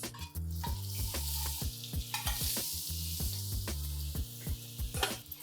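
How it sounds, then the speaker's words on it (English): Marinated mutton pieces frying in oil and butter on a flat tawa, a dense, loud sizzle broken by repeated stirring scrapes and clinks of the utensil against the pan, with no voice. "now we are going to just cook these marinated pieces of mutton in this oil and butter."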